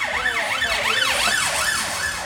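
An ambulance siren wails in rapid repeated up-and-down sweeps, loud and close, over a rumble of road traffic.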